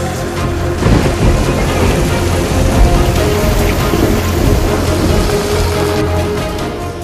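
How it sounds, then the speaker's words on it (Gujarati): Heavy pre-monsoon rain in Saurashtra, Gujarat pours steadily and loudly onto surfaces while thunder rumbles through it, with no voices. "સૌરાષ્ટ્રમાં છેલ્લા 1 અઠવાડિયાથી વરસાદ પડી રહ્યો છે."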